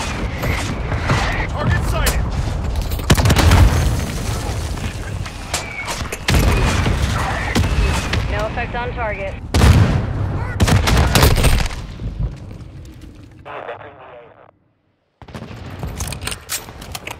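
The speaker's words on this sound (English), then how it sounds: "Mortar strike on the way." Mortar strike explosions in Call of Duty Modern Warfare II, loud repeated booms and heavy gunfire bursts crowding together over voices, with a brief cut to silence before the barrage resumes.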